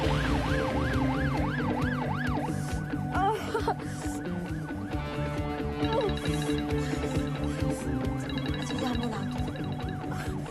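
An ambulance siren wails in rising and falling sweeps, loud and steady throughout, with a second higher siren pattern joining partway and a busy street mix underneath.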